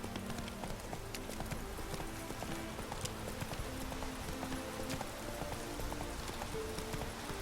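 Heavily laden mare's hooves pounding in a video game, a continuous rapid clip-clop of galloping close by over a rough, noisy background, with no talking.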